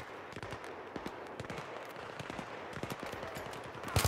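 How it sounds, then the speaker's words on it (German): Bursts of automatic gunfire crackle through a Battlefield 3 match on PS3, rapid irregular volleys of shots at moderate distance with no talking over them. "wo schießt denn der her?"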